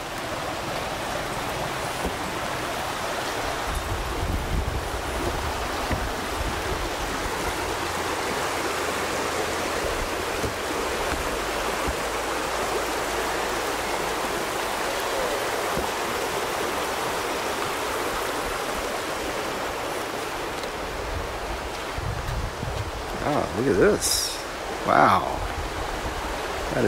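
Constant rushing of flowing river water in southern Laos, steady and broadband, with a few brief louder splashes or knocks near the end.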